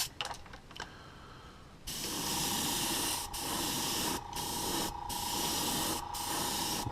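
Thin coats of gold paint are airbrushed onto a walleye crankbait lure, a steady close hiss that runs on with several brief pauses after a few quiet clicks and handling sounds.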